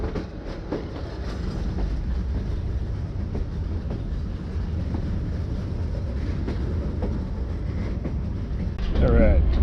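Train wheels rumble and clatter steadily over the rails from inside a carriage in Vietnam, with a brief squeal near the end.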